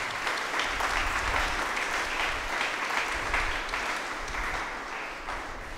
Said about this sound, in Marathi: त्याबद्दल आपण सर्वजण आपल्या बिशपांचे टाळ्या वाजवून आभार मानूया.